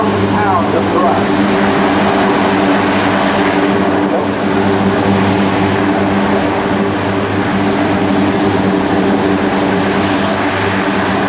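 A C-130J transport aircraft's Rolls-Royce propeller engines drone loudly and steadily at an airshow, a sustained throbbing roar that holds for the whole span without letup.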